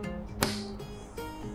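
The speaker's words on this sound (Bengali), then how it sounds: "প্রথমে গ্যাস জ্বালাতে হবে।" A gas stove burner lighting, with one sharp igniter click followed by a steady low rushing hum close by.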